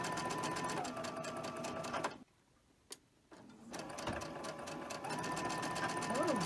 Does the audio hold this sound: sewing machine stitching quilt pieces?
yes